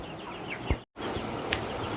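Broiler chickens cluck and peep close by in a noisy poultry house, a brief burst of fowl calls over a constant background hum, with a short dropout in the middle.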